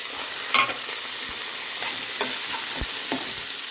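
Cashews, carrot and curry leaves frying in a pan, a steady close sizzle with a few sharp pops and stirring scrapes over about four seconds, no voices.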